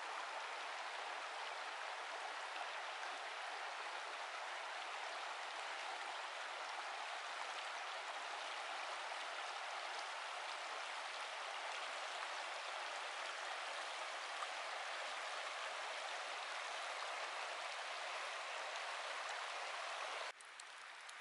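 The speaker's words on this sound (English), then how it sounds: "There's only the sound of the river." Steady rushing water of a remote river along the Magruder Corridor, Nez Perce Trail, at nightfall, flowing continuously, broad and even throughout, with no voices.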